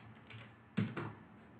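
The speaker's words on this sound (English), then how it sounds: "I'm gonna type BITA" A couple of quick clicks from a computer keyboard as a stock ticker symbol is typed, the keystrokes close and fairly soft against a quiet room, with a short pause between them.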